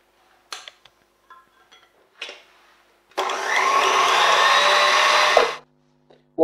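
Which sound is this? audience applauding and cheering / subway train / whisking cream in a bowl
whisking cream in a bowl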